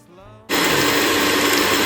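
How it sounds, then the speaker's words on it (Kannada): A kitchen mixer grinder starts after a brief lull and runs steadily and loudly, whirring as it grinds ghee-fried spices into powder for a Mangalore-style chicken curry. "ಇಷ್ಟು ಚೆನ್ನಾಗಿ ಫ್ರೈ ಆದಮೇಲೆ ಮಿಕ್ಸಿಗೆ ಹಾಕ್ಕೊಂಡು ಗ್ರೈಂಡ್ ಮಾಡ್ಕೊಳ್ಳಿ"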